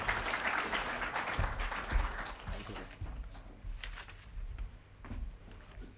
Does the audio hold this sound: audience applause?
yes